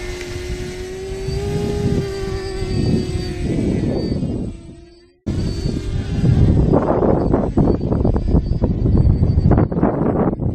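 Phil xquad 450 quadcopter drone flying outdoors on a windy day, a steady close motor whine with shifting pitch, briefly cutting out then resuming under heavy gusting wind rumble on the microphone.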